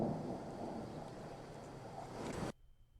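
Distant thunder rumbling after a lightning strike roughly two kilometres away, a low rolling roar that holds steady for about two and a half seconds and then cuts off abruptly, with no voices.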